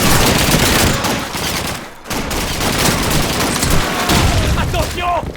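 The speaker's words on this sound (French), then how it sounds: "Mitrailleuse! Une MG42!" An MG42 machine gun fires in a World War II battle in the video game Call of Duty 2, loud sustained bursts of gunfire with a short pause, mixed with shouting voices and battle noise.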